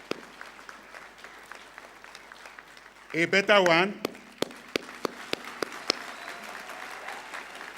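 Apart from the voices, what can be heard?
applause for graduating students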